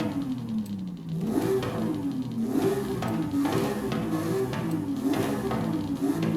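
Porsche 911 GT3 RS engine in Forza Horizon 5 revving up and down repeatedly, the tone rising and falling in waves as it climbs through the revs, loud and continuous after a brief quieter start.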